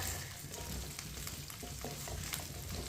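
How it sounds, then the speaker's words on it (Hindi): Sliced okra and potatoes fry over medium heat in a pan, giving a steady close sizzle with light stirring scrapes throughout. "मीडियम आंच पर इसे हल्का सा ब्राउन कर लेंगे। 4 मिनट के लिए इसे फ्राई कर लेंगे।"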